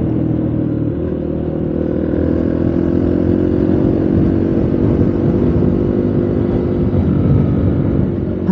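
Motorcycle engine droning steadily at close range while riding on a Japanese road trip, a loud continuous hum with slight shifts in pitch and no speech.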